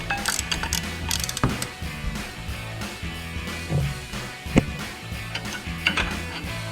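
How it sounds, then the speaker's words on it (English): A ratchet tightens a brake caliper bolt on a 2008-2021 Challenger, producing bursts of close, sharp metallic clicking with brief pauses between strokes. "get the ratchet around there, and finish tightening it up the rest of the way"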